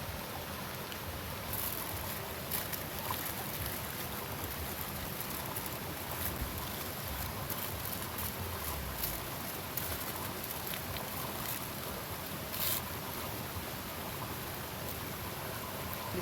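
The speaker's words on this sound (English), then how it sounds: "we're here at Falling Edge Waterfall" Rushing water at Falling Edge Waterfall on a riverbank makes a steady broadband roar throughout, with faint occasional higher clicks over it and no talk.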